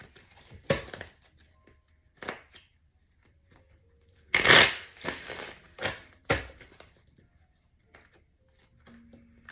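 A deck of tarot cards is shuffled in several separate bursts of riffling and crisp card slaps, spaced out with quiet gaps, close by and without talk.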